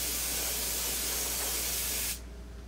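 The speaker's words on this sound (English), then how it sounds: "see, it almost makes it purple when I spray it" Spray paint hisses from an aerosol can onto a model, one continuous close, loud spray lasting about two seconds before cutting off abruptly, leaving a faint room hum.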